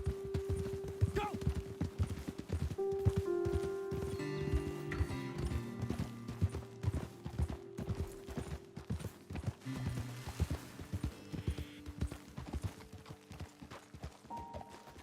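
Horse hooves clip-clop in a steady rhythm as riders move along a trail in Red Dead Redemption 2, with an occasional whinny and creak, under continuous talk and layered game music.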